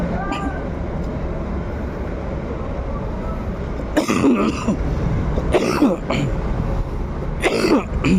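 Several rough coughs burst out one after another over a steady low rumble of background noise.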